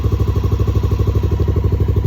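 Honda XR650L motorcycle engine idling as it warms up, a steady close-up thumping single-cylinder pulse with even rhythm, loud and alone.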